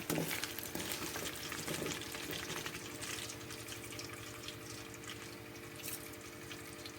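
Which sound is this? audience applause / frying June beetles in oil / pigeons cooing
frying June beetles in oil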